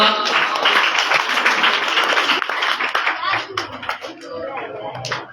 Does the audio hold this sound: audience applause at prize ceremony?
yes